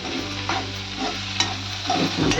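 Garam masala being stirred into a sprouted mung bean curry in a pan, a steady soft scrape of the spoon over a continuous low frying sizzle, close and alone with no voices.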